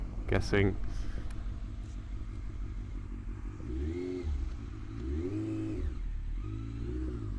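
A Yamaha FZS 600 Fazer motorcycle engine on a ride through dike and forest, a low steady rumble that revs up and swells twice in the second half, with a brief voice near the start.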